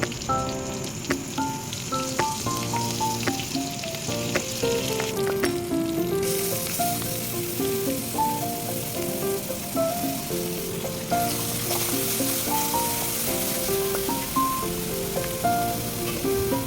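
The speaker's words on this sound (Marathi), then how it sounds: "कढईमध्ये तेल घेतलेलं आहे थोडेसे राई जिरे आणि हिंग एवढं घालून आपण हा मसाला ऍड करणार आहोत" Masala paste fries in hot oil in a kadhai with mustard seeds, cumin and asafoetida for a fresh rajma dish, giving a steady, loud, close sizzle with occasional stirring scrapes throughout.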